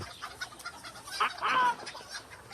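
A man imitates chicken cries, giving a few short clucking, squawking calls in quick bursts over a noisy room background, close and fairly loud.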